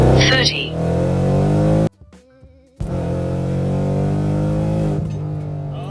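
A car running new Mickey Thompson drag tires on beadlocks revs hard with its exhaust valves open, a loud, harmonic engine roar that cuts out briefly for about a second before surging back and holding steady near the listener.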